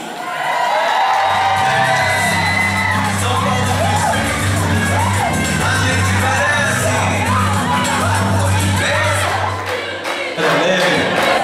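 Political rally crowd at a São Paulo campaign plenary, loud and sustained, shouting a rhythmic chant together with cheers and whoops, filling the room close up for about ten seconds before briefly dropping.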